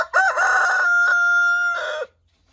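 A Goliath rooster, a large heavy-bodied chicken breed, crows once loudly and close by in a long sustained call that cuts off abruptly, with no voices around it.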